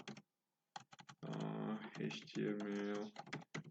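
A computer keyboard types a new folder name in quick bursts of clicks at the start and end, with a voiced stretch in between.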